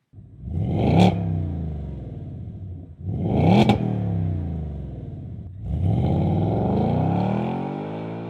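A 2024 Mustang 5.0L V8 fitted with a Flowmaster axleback exhaust with dual 4-inch polished stainless steel tips revs hard three times, each loud blip climbing then settling into a deep, rumbling idle, with no talking.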